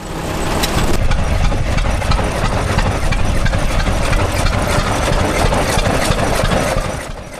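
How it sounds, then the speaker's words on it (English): A heavy old International tractor engine chugs steadily and loudly close by, its low rumbling beat holding constant throughout. "Let's get back to some more tractors on the move"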